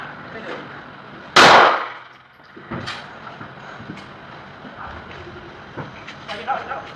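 A single loud 9mm pistol shot fired with 130-grain ammunition cracks out near the start, followed later by a fainter sharp report, amid outdoor background noise.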